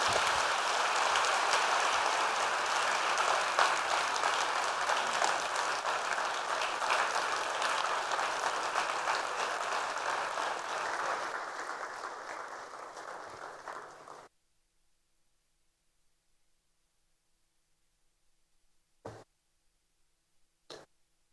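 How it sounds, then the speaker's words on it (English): A large audience at the Africa Development Bank Group's annual meeting applauds loudly and continuously, then the clapping fades and cuts to near silence broken by two brief knocks. "let's give one more big round of applause to the President"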